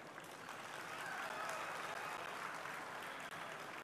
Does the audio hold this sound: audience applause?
yes